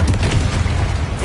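A Confringo blasting spell explodes in Hogwarts Legacy, a loud, booming burst with rumbling low end that fills the whole short moment without pause.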